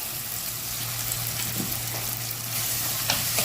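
Ginger garlic paste is stirred with onion and tomato in a hot pan for a chicken liver masala, a close, steady sizzle with soft scraping strokes of the spoon, no voices.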